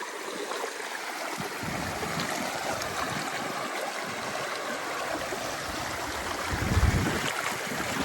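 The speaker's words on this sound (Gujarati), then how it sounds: "ખેતરમાં બધું પાણી જાય છે" Floodwater from unseasonal rain rushes knee-deep across a farm field in Gir, a steady, broad rushing wash that swells louder near the end, with no voices.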